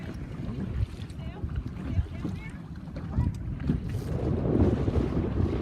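Strong wind rushing past a microphone on an FJ dinghy racing on flat water, a loud low buffeting roar with water sloshing against the hull, while voices can be heard talking underneath.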